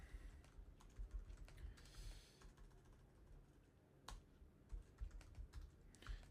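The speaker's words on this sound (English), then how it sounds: "my typing's terrible" Close, irregular bursts of keystrokes from a computer keyboard while someone types a report in Microsoft Word, with short pauses between runs of clacking and no talk.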